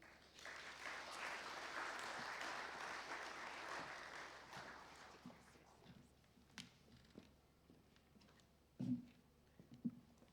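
Conference audience applause, a dense sustained clapping that gradually thins out, followed by a few scattered sounds and faint voices.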